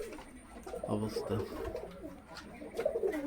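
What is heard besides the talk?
pigeons cooing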